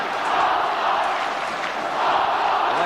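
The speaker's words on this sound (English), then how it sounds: "Listen to that crowd." Dense, steady roar of a large football crowd at a 1990 AFL match between Hawthorn and Melbourne, loud and continuous with swelling cheers and no clear break.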